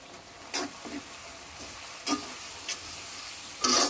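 Spice masala of turmeric, chili, coriander and cumin powders frying in a pan, a soft steady sizzle broken by several distinct scraping stirs of a spatula, close and fairly quiet.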